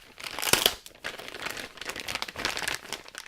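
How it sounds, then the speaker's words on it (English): Thin plastic bag crinkles as a large radius template is pulled out of it, a run of close, bright rustling bursts with a sharp peak early on, then steadier crackling throughout. "I'll take it out of the plastic bag."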